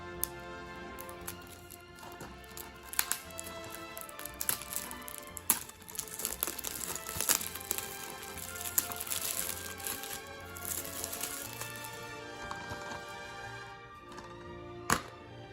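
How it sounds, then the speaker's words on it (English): Flimsy plastic shrink wrap is peeled off a DVD case by hand, giving faint crinkling and crackling with scattered sharp ticks and snaps across the whole stretch. "time to take the shrink wrap off this case. Thankfully, the shrink wrap is really flimsy"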